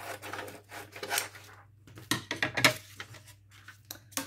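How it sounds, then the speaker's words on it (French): Paper is cut with a small die-cutting machine, giving quiet, irregular rasping and scraping strokes with brief pauses between them, close and faint. "Donc je viens découper un morceau."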